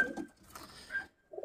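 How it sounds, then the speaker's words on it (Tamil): Wild pigeons near a bird coop give a few soft, low coos in short bursts with brief gaps, faint and somewhat distant, with no voices. "லாஸ்ட்டில் நிற்கிற எல்லாமே காட்டுப்புறா"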